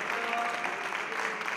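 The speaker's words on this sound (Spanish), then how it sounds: "aplausos y golpes de codo" Applause in the Chilean Chamber of Deputies after a constitutional accusation is rejected, a steady wash of clapping at moderate level running through the whole moment, with voices mixed in underneath.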